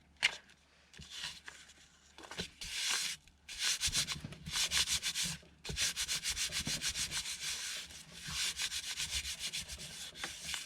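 A glue stick rubs back and forth across paper in short, soft, rhythmic strokes, close up and fairly quiet with brief pauses between passes, while making specimen cards for a junk journal.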